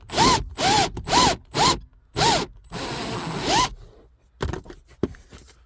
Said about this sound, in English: That's why I'm using a cone cutter, because you can just open it up a little bit.